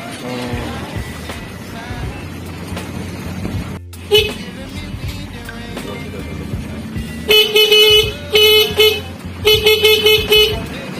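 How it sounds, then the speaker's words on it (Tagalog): A car horn honks in repeated loud bursts, several short blasts in quick succession, over background traffic and some talking earlier. "Malakas na yung busina niya"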